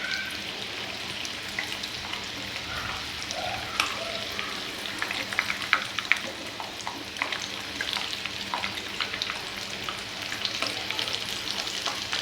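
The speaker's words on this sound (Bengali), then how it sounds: "একটু সময় নিয়ে মিডিয়াম ফ্লেমে একটু ভালো করে ভাজতে হবে" Pieces of rohu fish fry in a pan over a medium flame, giving a steady soft sizzle with scattered crackles and pops and occasional stirring scrapes, with no talking.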